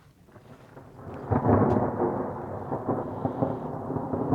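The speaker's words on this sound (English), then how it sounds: "If you can hear me over all the thunder." Thunder rolls through a thunderstorm in Holcomb Valley, a loud, deep rumble that swells after a second and keeps grumbling with rain noise beneath, no voices.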